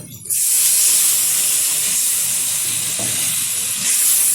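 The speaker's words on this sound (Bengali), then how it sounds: "এখন দিয়ে দেবো এর মধ্যে পরিমাণ মতো জল" Water poured into a hot pan of spiced hilsa fish curry, setting off a loud, steady steaming hiss and sizzle that starts abruptly and continues without a break.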